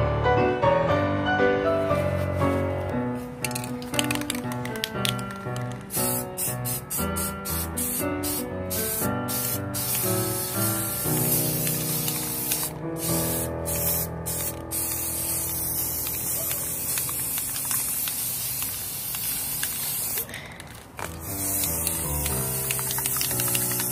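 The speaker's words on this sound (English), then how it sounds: "let me spray paint it and set it out to dry" Bursts of spray paint hiss on and off over background music as outriggers are painted, several short sprays and one longer one, close and fairly loud.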